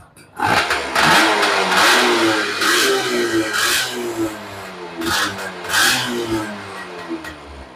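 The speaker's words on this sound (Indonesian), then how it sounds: "Tarikan gas motor sudah responsif sekali." A Yamaha F1ZR motorcycle engine catches and is revved several times, each blip of the throttle rising and falling over a steady idle, close and loud.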